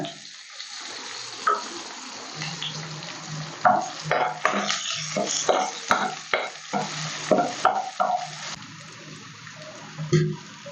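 Chopped onion, garlic and ginger sautéing in a hot pan, a steady sizzle broken by repeated scraping and stirring strokes, close up with no voices.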